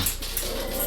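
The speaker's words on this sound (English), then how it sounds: "the dogs are going crazy." Dogs whimper and yip in a brief, close, agitated burst over a steady background hum.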